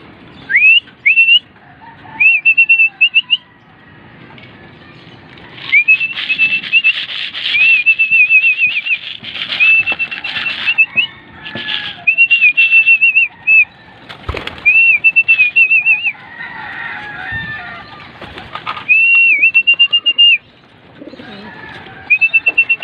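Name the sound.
pigeons being fed, wings flapping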